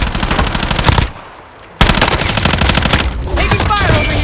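Automatic weapon fire in the video game Call of Duty: Warzone rattles out in loud rapid bursts, with a brief lull before the shooting resumes just as hard.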